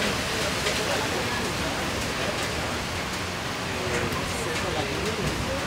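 Heavy rain hisses as a dense, steady wash at night at the Mirador de La Barranca, an outdoor lookout over a ravine, continuous and close throughout, with a voice faintly present under the downpour.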